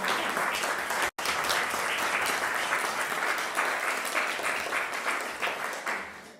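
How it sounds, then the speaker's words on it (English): A concert audience gives loud, sustained applause to welcome a jazz trio. It is dense, continuous clapping with a brief gap near the start, then it swells and slowly tapers off. "You may need to clap again"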